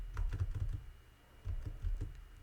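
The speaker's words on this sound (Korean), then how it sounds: "R키를 누르면 다시 시작합니다." Keys pressed on a computer keyboard to restart a P5.js browser game, heard as several soft, low thumping keystrokes in two short clusters with a brief pause between, close and fairly quiet.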